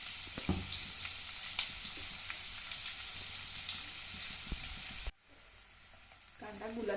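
Onion and ground masala paste fry in a pan for a spicy Kolhapuri mutton dish. A steady, close hiss carries occasional stirring clicks, then drops suddenly and comes back more faintly with a few scrapes.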